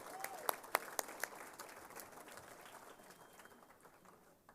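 Audience applause at a girls basketball Hall of Fame awards banquet in Indiana, a few sharp near claps at first, then a dense steady wash of clapping from the crowd that slowly fades.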